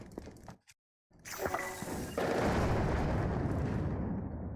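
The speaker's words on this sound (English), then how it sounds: "You need at least 3 hits to break the blue rocks." Blue rocks shattering under repeated shots in Zelda: Tears of the Kingdom, a burst of crashing, crumbling impacts after a brief silence, loud and sustained as debris breaks apart up close.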